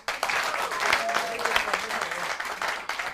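An audience applauds at a live folk music concert: dense, steady clapping fills the whole stretch at moderate level with no talk over it.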